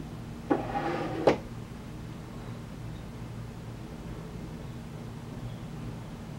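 A bottom drawer of a high-gloss cherry wood cigar humidor slides open, a short wooden scrape ending in a sharp knock, near and alone over faint room hiss.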